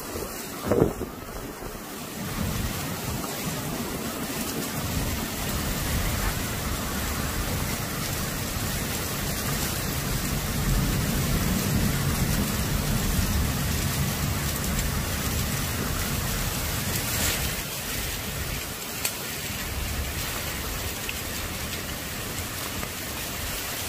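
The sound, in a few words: heavy wind-driven rain during a derecho storm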